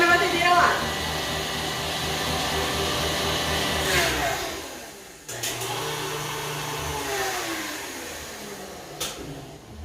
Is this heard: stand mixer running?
yes